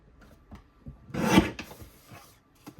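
Paper for a scrapbook page kit is trimmed with a short rasping slide of the cutter in the middle, surrounded by faint taps and rustles.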